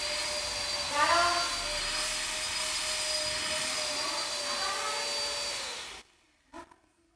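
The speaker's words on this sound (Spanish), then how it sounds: "estaban con la aspiradora a todo lo que daba y no me dejaban ni escucharme a mí misma" A vacuum cleaner runs at full power with a steady high whine and airy roar, fairly distant and continuous, then cuts out abruptly near the end, leaving near silence and a faint knock.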